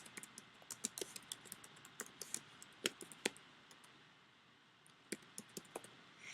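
Rapid computer keyboard typing, a close run of light key clicks in quick bursts with a brief pause midway, typed alone without voices.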